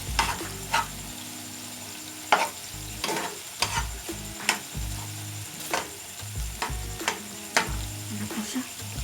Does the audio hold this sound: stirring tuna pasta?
yes